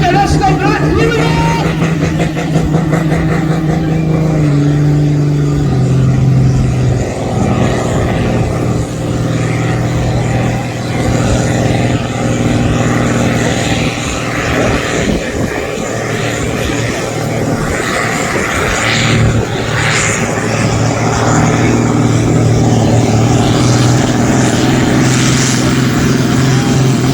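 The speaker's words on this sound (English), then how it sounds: "building up those revs, getting the fuel into the engine, turbo getting spooled up here, loads of boost pressure" A pulling tractor's engine at a tractor pull in Brechin, Scotland, roars loud and close as the revs build and the turbo spools up. The heavy drone holds for the whole stretch with slight surges in pitch.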